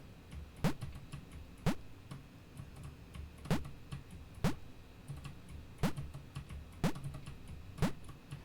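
Computer keyboard keys pressed during a video game, sharp single clicks spaced about one second apart over a faint background hum.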